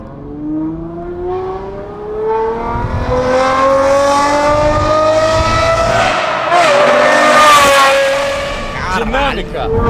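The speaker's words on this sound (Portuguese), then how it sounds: "esse é o ronco V12 mais bonito que ele já ouviu" An Aston Martin with a V12 engine and manual gearbox revs up close and loud, its pitch climbing steadily through the gears to a harsh peak before easing off near the end.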